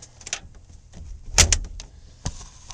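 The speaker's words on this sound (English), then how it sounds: "the deadbolt, so I can unlock it and lock it from the inside" A deadbolt on the door of a converted 5x8 enclosed trailer clicks and clunks through several sharp metallic knocks and a louder latch snap, close and quiet between bursts, with no talking.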